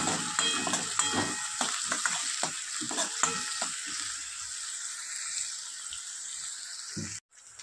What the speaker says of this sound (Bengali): শুকনো লঙ্কাটা ভাজা হয়ে গেলে রসুন ফোড়ন দেবো, কুচানো রসুন আর পেঁয়াজ আর অল্প নুন দিয়ে লাল করে ভেজে নেব।